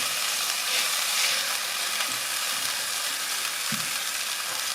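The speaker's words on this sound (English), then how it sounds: "I'm just going to cook that off really, really quick in a moment." Shredded cabbage fries in oil in a pan while chicken shawarma is cooked, giving a dense, even sizzle that stays close and steady with a faint knock near the end.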